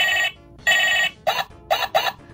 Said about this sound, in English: definitely a different kind of ringing tone